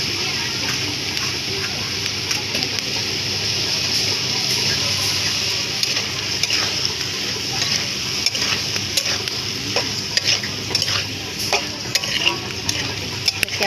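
Green jackfruit and shrimp frying and being stirred in a pan in a home kitchen, a steady close sizzle with scraping utensil strokes throughout.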